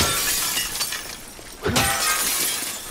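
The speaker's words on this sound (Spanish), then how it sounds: "Me llevo este ladrillo." A car window smashed with a brick in The Last of Us Part II, a sudden sharp shatter midway followed by a scatter of tinkling glass fragments, loud and close against a quiet ambient background.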